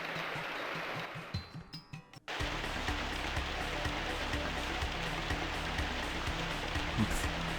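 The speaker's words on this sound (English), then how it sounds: "Indeed, it is raining." Steady rain hissing in the video game Grandia HD Remaster, a continuous broadband wash that fills most of the stretch after a short quieter opening with a few sparse tones.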